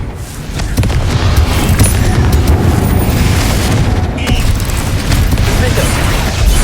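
Confringo spell explosions in Hogwarts Legacy roar in a dense, loud, continuous barrage of booming blasts with no pause, as a voice talks over the racket.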